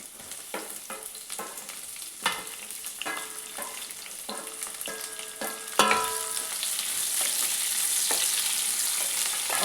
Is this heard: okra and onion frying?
yes